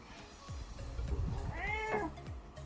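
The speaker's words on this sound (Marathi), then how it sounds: "हा एक मेल मांजर आहे, म्हणजे बोका आहे" A male cat (tomcat) meows close by, a drawn-out, rising and falling call, with a few lower sounds around it in a quiet setting.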